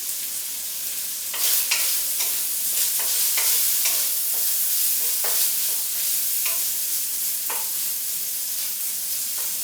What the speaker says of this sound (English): we're going to use that fat to cook the mushrooms and onions